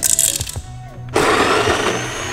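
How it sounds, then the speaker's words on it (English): A coffee grinder seasoning its burrs with 20 grams of coffee before an AeroPress brew. Quieter handling noises come first, then the motor kicks in abruptly for a loud, steady, close grinding whir. "I had weighed out 20 grams of coffee so I can season the grinder."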